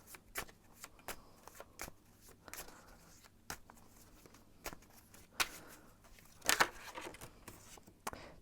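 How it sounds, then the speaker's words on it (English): Tarot cards being shuffled by hand, a quiet run of soft riffling flicks and slaps in an irregular rhythm, close and alone with no talking. "I'm going to shuffle a little bit more."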